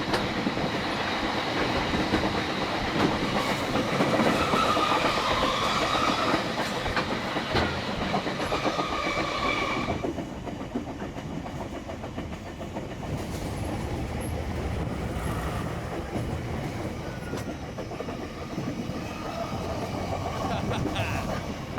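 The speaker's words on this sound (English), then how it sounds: "I got this train" Steady rumbling and clattering of train wheels on rails, heard from on board, with a continuous roar that drops slightly midway and carries on.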